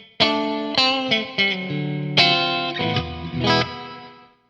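Electric guitar runs through a Donner Verb plate reverb pedal, a quick series of picked notes and chords with sharp attacks. A short, small-room style reverb tail trails each one before the phrase fades out, with no voices.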